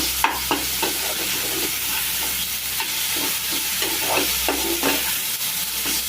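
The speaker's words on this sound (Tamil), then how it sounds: "இப்போ தக்காளி ஆட் பண்ணுறோம். நல்லா வதக்கலாம்." Tomato sautés with onion in oil for Chettinad prawn thokku, a loud, close sizzle carrying rhythmic scraping strokes of a spatula against the pan, with no one speaking.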